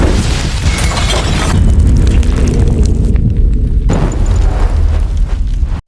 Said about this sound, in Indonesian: Sebuah ledakan besar terjadi,